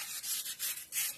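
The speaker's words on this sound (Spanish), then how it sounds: "tomen su lija de manera diagonal" Sandpaper is rubbed diagonally across the edge of a lamp piece to round it off, producing rhythmic, close, hissing scrapes in about four strokes with brief gaps between them.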